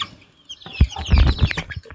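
Aseel chickens at a small farm give a short burst of clucking, a few close, fairly loud calls after a near-silent start.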